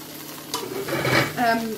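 Mushrooms frying in a pan for egg fried rice, a close sizzle with stirring scrapes that swell in two bursts over a low hum, with no voices.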